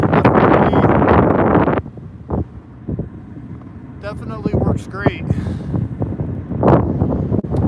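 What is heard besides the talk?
wind noise on the microphone while driving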